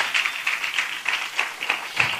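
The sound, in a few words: applause from the church congregation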